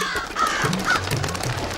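Crows caw repeatedly over a rooftop parapet in a Hindi animated story, a few harsh calls standing out against a steady background bed, fairly close and loud without speech.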